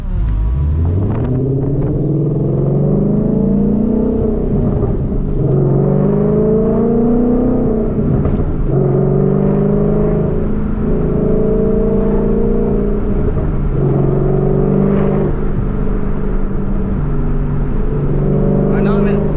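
A 2014 Ford Mustang GT engine holds a steady, loud rev around 3,000 RPM from inside the car, its deep rumbling tone rising and easing slightly as someone talks over it.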